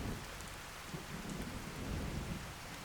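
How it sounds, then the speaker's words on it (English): Steady rain pours and drums in Fallout: New Vegas, with low thunder rumbling continuously underneath, a constant storm texture with no voices. "Oh, I forgot it was raining. Hang on. It's raining"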